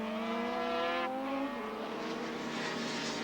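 Superbike motorcycles race in 1983, with a loud, steady high engine whine. The pitch drops as one bike shifts gear or passes, and a continuous roar follows, heard from a trackside distance without talk.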